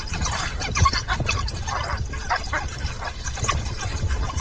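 A pack of dogs growls beneath a tree, a continuous rumble of low snarls broken by short yips and scratchy bursts, fairly close and moderately loud.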